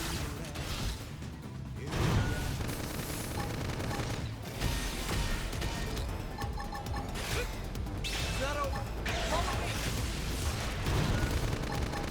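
Mech missiles in Xenoblade Chronicles X launch and explode in a loud, dense barrage of bursts and mechanical clatter, layered over booming impacts and game music, with brief voices mixed in.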